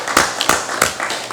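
Audience in a congressional special session gives a round of applause: several close, crisp hand claps repeat in a loose rhythm about three per second, brief and fairly loud.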